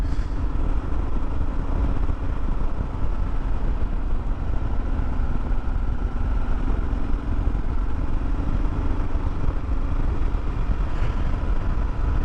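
Kawasaki KLR motorcycle riding down a back road, a steady, loud engine drone with constant wind and road rumble and no break throughout.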